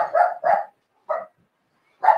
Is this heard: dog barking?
yes